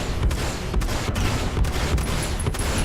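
Rapid spaceship weapons fire in the Star Citizen video game, a steady series of sharp repeated blasts at close range, loud and sustained with no talking over it.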